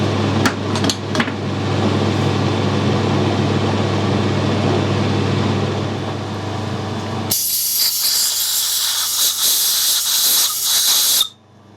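A lathe spins in fast reverse, backing a tap out of an air rifle moderator, with a steady loud machine whir and hiss, a few sharp knocks early on, then a brighter high hiss before it cuts off.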